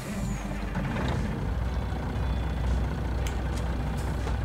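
A truck in the farming game Irgendwo in Thüringen rumbles with a steady loud engine, and short air-brake hisses and clicks come near the end.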